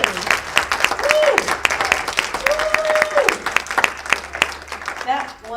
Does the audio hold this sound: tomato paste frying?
no